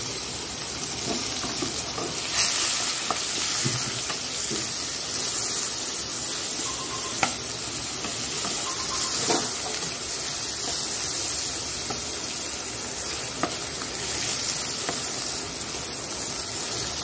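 A small amount of onion frying in hot oil with black cumin (kalonji) in a kadai, giving a steady, close sizzling hiss with occasional faint clinks and scrapes of stirring throughout.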